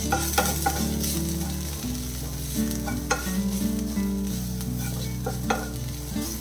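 Chili powder and turmeric heat in a pan with green chilies, a faint sizzle and occasional stirring under loud background music, with no speech.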